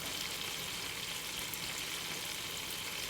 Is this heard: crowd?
no